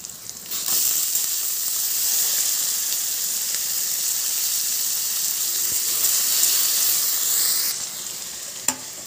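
Washed moong dal hits a hot pan for mango dal, giving a loud, steady sizzle and hiss that runs unbroken for several seconds before cutting off, with no voices.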